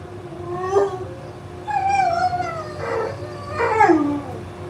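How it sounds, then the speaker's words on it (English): A dog howls in long rising and falling wails, several separate cries with short gaps, moderately close with a faint steady hum beneath and no barking evident. "Dog's freaking out about something."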